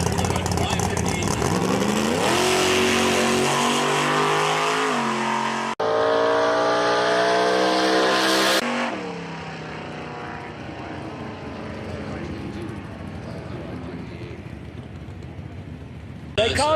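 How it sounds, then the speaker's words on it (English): An old race car with a big block Chevy engine roars loudly past at a motorsports park, rising in pitch as it accelerates, then fading away into the distance with a rumbling tail. "And this thing's got a big block Chevy set way back."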